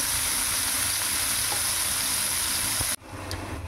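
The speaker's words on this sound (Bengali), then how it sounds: "আমরা ঢাকা দিয়ে ফুলকপি আলুটা ভাজতে বসিয়ে দিলাম।" Cauliflower and potato pieces coated in salt, turmeric and chili powder sizzle loudly and evenly in a pan, then the hiss cuts off abruptly near the end and leaves a quieter, muffled frying sound.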